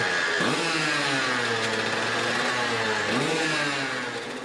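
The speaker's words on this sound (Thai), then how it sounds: "เมื่อเวลาเร่งเครื่องยนต์จึงเกิดเสียงคำรามกึกก้องอย่างน่ากลัว" A loud engine with a modified, drilled-through exhaust pipe revs and roars up close, pitch rising and dropping twice in sustained growling surges before easing slightly at the end.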